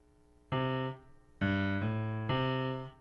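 Piano plays a simple left-hand bass line pattern for "When the Saints Go Marching In", three sustained low notes struck one after another with short pauses. Quiet and close, with no talking.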